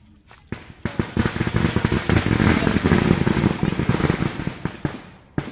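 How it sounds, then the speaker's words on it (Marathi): Firecrackers at a high scenic outdoor spot where people are eating biryani go off in a fast crackling barrage of sharp pops and bangs for several seconds, loud and dense, then tapering off. "फटाके वाजवत आहेत"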